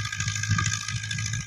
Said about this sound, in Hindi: उन्ने ही चक्करां दे चलन दिया ट्रैक्टर।